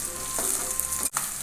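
Green chillies fry and are stirred in a pan for egg fried rice, giving a steady bright sizzle, close and loud, with a brief scrape of a spoon near the end.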